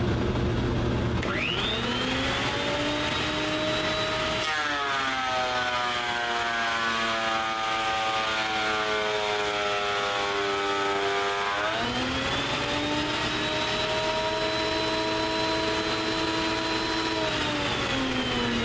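A planer with straight knives feeds a maple board while a dust collector runs, a loud steady machine whine whose pitch drops as the cut loads the motor, then recovers.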